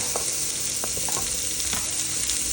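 Chopped onion frying in hot oil in a pan, a loud, dense, steady sizzle with a few soft knocks and scrapes, close up and with no talking.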